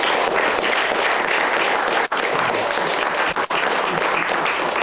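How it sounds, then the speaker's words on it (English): Dense, sustained applause from an audience at a staff meeting in Berkeley, loud and even throughout with two brief dips, almost no voices. "This is a round of applause."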